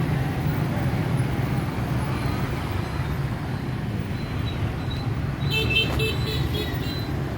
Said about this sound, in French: Et les scooters.